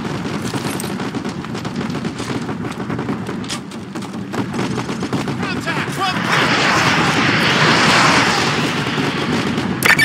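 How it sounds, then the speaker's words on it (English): Artillery strike in the Call of Duty Modern Warfare 2 video game: loud continuous rumbling barrage of booming impacts and gunfire, swelling into a dense roar toward the end. "Ramirez, use your laser designator to call in artillery on those vehicles."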